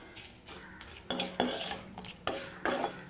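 Neem flowers frying in oil in a pan as they are stirred: a run of metal spoon scrapes and clanks against the pan, several distinct strokes in quick succession, close and clear, with only faint sizzle beneath.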